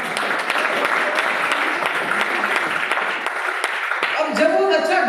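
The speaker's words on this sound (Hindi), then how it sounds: "एक बार ताली बजाइए" Students clapping together in a classroom or lecture hall, a steady dense patter of many hands that holds for several seconds before thinning out as a voice comes in.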